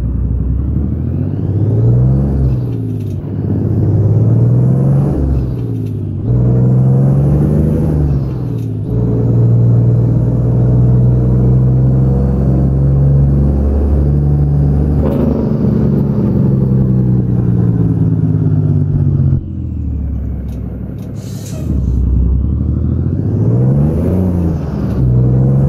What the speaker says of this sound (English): we've got the truck running. We're going to get our butts onto the road